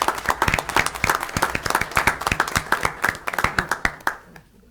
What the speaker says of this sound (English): Please give a hand of applause to all of them.